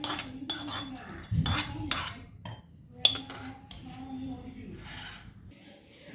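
A spoon scrapes and clinks against a dish while stirring beetroot pachadi with tempered mustard seeds poured in, a series of short close metallic clatters and rubs with quiet gaps between.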